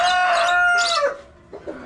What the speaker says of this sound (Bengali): রাতার শব্দে কথা বলা যাচ্ছে না।